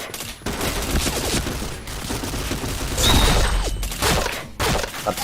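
Rapid bursts of video game gunfire in a headshot-focused shooter, with dense crackling volleys and sharp impacts cutting in and out over a few seconds, loud and close with brief gaps between bursts.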